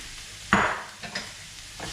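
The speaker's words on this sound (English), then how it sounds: "Okay, the oil's nice and hot. Add the onions." Onions dropped into hot vegetable or sunflower oil for a veg curry: a loud hissing burst as they hit the pan, then softer sizzles and a couple of stirring scrapes, no talking.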